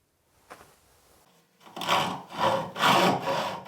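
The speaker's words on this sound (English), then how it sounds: "using his turning saw to saw this" A turning saw cuts through a wooden spatula blank clamped in a vise, giving four rasping back-and-forth strokes that grow louder after a quiet start, close and alone.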